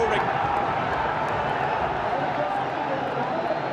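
A packed cricket stadium crowd in Mirpur roars during the Bangladesh Premier League final, a dense, steady wall of cheering noise that holds at one level throughout.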